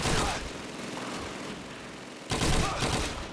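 Gunfire in the World War II shooter Call of Duty 2, a loud crack at the start and another sharp report near the end over a steady battlefield din.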